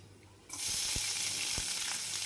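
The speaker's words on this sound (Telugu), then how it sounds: "అదే ప్యాన్లోకి మూడు టేబుల్ స్పూన్ ఆయిల్ వేసుకొని ఆవాలు మినపప్పు శనగపప్పు వేసేసి మంచిగా ఫ్రై అయిన తర్వాత సన్నగా పొడుగ్గా కట్ చేసిన ఒక పెద్ద ఉల్లిపాయ ముక్కలు వేసేసి" Sliced onion drops into hot oil with mustard seeds and dals, bursting into a loud, steady sizzle partway through, with a couple of soft stirring knocks underneath; no talking.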